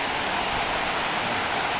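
Heavy rain pours down outside a monk's hut just after plants were watered, a dense, steady hiss of falling water that stays loud and unbroken from start to finish, with no voices.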